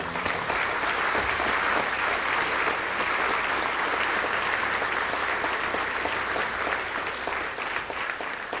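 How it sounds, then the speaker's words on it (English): Sustained, dense applause from a large summit audience for Invictus Games athletes, loud and even throughout with a crowd filling the room. "why don't you applaud for the athletes who participated?"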